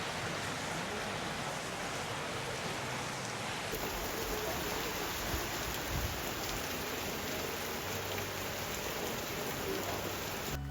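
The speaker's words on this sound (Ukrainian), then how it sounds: "максимально сильна злива" Heavy tropical downpour in Bangkok during the rainy season: a dense, steady roar of rain pouring onto surfaces, loud and unbroken throughout.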